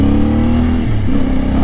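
A CFMoto IBEX 450 motorcycle engine, still in break-in, drones steadily at low RPM while riding on a commute, with a slight dip and rise in pitch midway.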